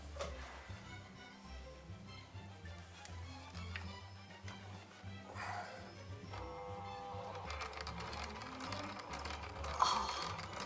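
Quiet sewing machine stitching a zigzag pattern, a steady mechanical whir with fast rhythmic ticking that continues throughout at close range.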